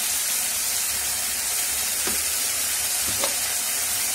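Spice paste of green chilli and turmeric powder fries in hot oil for an eel curry, a dense continuous sizzle with a couple of soft stirring scrapes.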